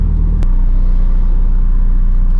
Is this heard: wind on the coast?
no